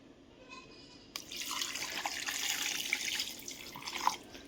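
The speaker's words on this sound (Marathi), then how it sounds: "पाणी टाकायचं आणि हलवून घ्यायचे।" Water pours from a tap into a bowl of collected milk cream, a soft trickle that starts abruptly and runs on with small splashes, faint and near, with no talk.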